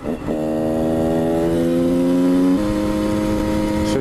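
A motorcycle accelerating hard in sixth gear, its engine note a steady harmonic whine that climbs in pitch, drops briefly at a gear or throttle change and keeps pulling, loud and close with no talk.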